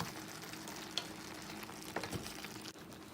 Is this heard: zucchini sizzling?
yes